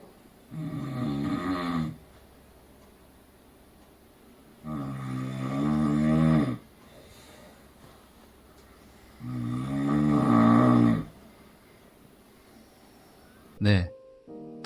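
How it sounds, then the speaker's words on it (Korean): A hospital roommate snores loudly and close by, three long rasping snores spaced several seconds apart with quiet breaths between, followed by a brief sharp noise at the end. "병실 내의 소음 그 두 번째는 코골이입니다"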